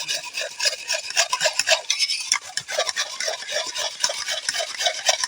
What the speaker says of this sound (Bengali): এবার আমি এইভাবে পেঁপেটাকে কুড়ে নেব এইভাবে উঠতে থাকবে